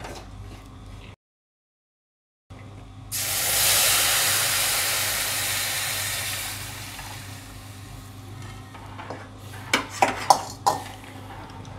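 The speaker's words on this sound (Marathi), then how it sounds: "हे सर्व ड्रायफ्रूटचं मिश्रण आपण चांगलं परतून घेऊया" A dry fruit mixture being sautéed in a pan, with a loud sizzling hiss swelling up after a short silence, then scraping and clinking of a spoon against the pan in a few sharp knocks.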